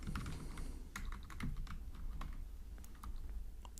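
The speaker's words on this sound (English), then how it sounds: "And here I will type" Code is typed on a computer keyboard in a quiet room, with a steady stream of light, close key clicks in fast, uneven bursts over a low background hum.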